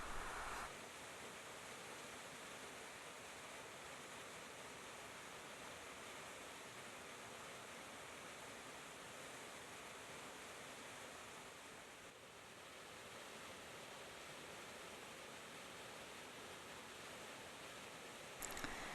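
A fast-flowing waterfall in the Ruby Mountains of northeastern Nevada pours as an even, faint hiss that holds unbroken throughout, with no voices.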